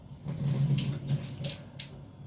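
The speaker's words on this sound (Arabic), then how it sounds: "احنا كده هنضيف له كمان كوبايه ميه" A cup of water poured into a soup pot of orzo-style bird's-tongue pasta soup, heard as a short close splash and trickle that lasts about two seconds and ends with a few drips.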